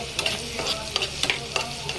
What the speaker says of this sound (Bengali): এখন দিয়ে দিব কয়েকটা শুকনো মরিচ সাথে ভাজার জন্য।